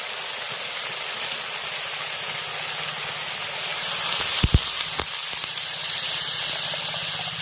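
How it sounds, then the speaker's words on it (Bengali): Water poured into sizzling sautéed masala for a jackfruit kofta curry, giving a steady broadband gush and hiss with a few sharp louder bursts midway as the water hits the hot pan. "মশলা খুব ভালোভাবে কষিয়ে নিয়েছি এবার এর মধ্যে দিয়ে দেবো জল"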